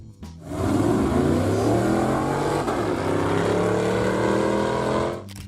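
A 1994 Chevrolet Camaro V6 engine revs up loudly and holds a steady roar for several seconds before cutting off, heard alone.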